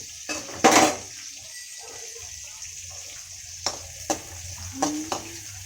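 Onion and curry leaves fry in a pan for a bitter gourd curry, giving a soft steady sizzle broken by several sharp clinks and scrapes of a spoon stirring against the metal.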